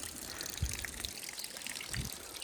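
Rainwater flows along a village lane after a downpour, a steady close wash of trickling and splashing water with a couple of soft low thumps.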